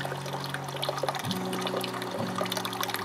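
Water trickling and bubbling steadily as a container fills during pH adjustment of purified water, with a pump humming underneath and the pitch shifting slightly partway through.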